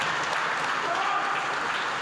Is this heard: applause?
yes